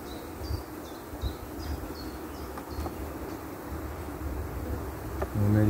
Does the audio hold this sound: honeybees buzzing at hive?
yes